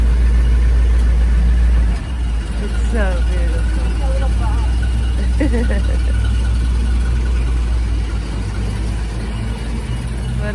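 A classic Chevrolet Bel Air drives off, its engine a deep, steady low rumble close by, with people talking over it.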